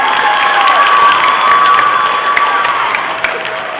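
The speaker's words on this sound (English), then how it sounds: "let's have a round of applause for all of our DOJO winners this morning" Clapping and cheering from children at a school assembly for award winners, with shouts over the steady applause, loud and close, slowly tapering near the end.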